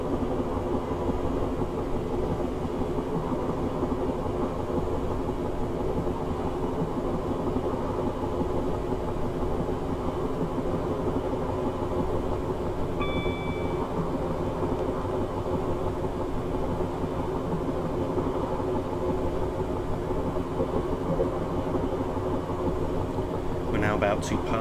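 A train accelerating on the Hampton Court to London Waterloo route in Train Simulator 2018, with a steady low traction drone and rolling rumble holding constant throughout and a brief faint tone partway through.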